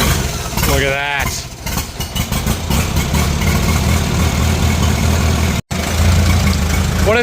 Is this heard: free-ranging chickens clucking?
no